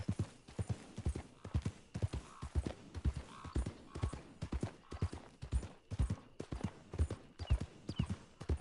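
Horse hooves clip-clop steadily in Red Dead Redemption 2 Online, a brisk rhythmic trot of close, distinct hoofbeats running the whole time, with a faint whinny.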